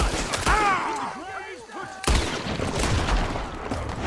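Gunfire in a Red Dead Redemption 2 shootout: a burst of sharp shots near the start, then another loud volley after a pause, with a voice speaking over parts of it.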